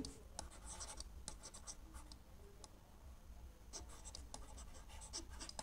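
Pen writing on paper during a set theory math lesson: soft, close scratching strokes in short bursts with brief pauses, quiet and dry.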